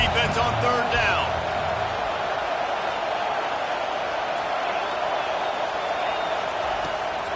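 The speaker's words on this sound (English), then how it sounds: "Decibels rising as the crowd gets behind this defense on 3rd down." Football stadium crowd roaring steadily on a third down during a Nebraska versus Colorado college game, a loud sustained wash of noise under a commentator's voice.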